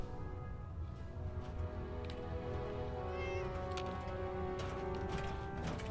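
A cat meows several times in the video game Fallout 4 over a soft musical background, the cries fairly close and drawn out.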